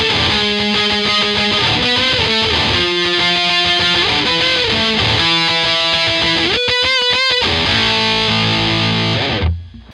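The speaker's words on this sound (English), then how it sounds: "and then we just go straight into the octave section" Bass guitar plays a fuzzy, heavily distorted octave riff through an effects pedal, with rapid repeated notes in a driving rhythm and a brief trill near the end before it cuts off; no voices.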